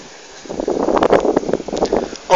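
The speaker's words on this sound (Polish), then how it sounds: "Jak tutaj stoję, słychać świst jego łopat" Blades of a huge wind turbine in Hať, Czech Republic, sweeping past in a steady whooshing rush with gusty rises and falls, heard up close from the base with wind noise on the microphone.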